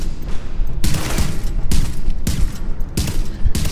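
Bursts of video game gunfire, loud and close, arriving in several sharp volleys of rapid shots with brief pauses between them and no talking.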